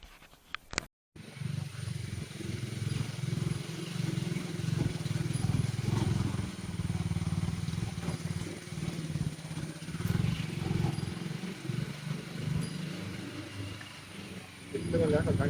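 Sports motorcycles ride past on a road near a hill viewpoint in Karnataka, engines droning steadily and swelling as they pass close by, with a brief dropout at the start.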